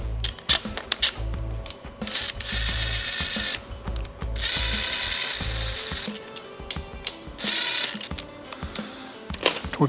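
A ratchet wrench tightens bolts on a guide plate of a Silverado 454SS engine, with bursts of fast close clicking alternating with short pauses and clanks of metal tools.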